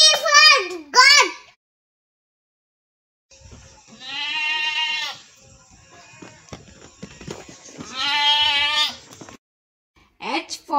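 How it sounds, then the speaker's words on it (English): Goat bleating in a children's alphabet phonics song, with a voice before it, then two separate drawn-out, wavering bleats up close, a short pause and another brief voice at the end. "G for goat."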